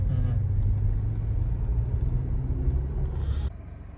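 A car cruising on the highway between Chennai and Pondicherry, a steady low engine and road rumble heard from inside the cabin, continuous and even, briefly dropping near the end.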